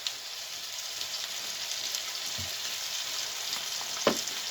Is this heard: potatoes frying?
yes